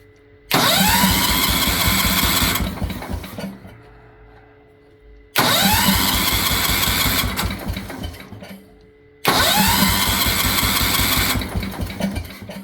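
A Kohler K241 10 hp single-cylinder engine cranks in three long bursts of about three seconds each, separated by pauses, without catching, loud and close, despite starting fluid.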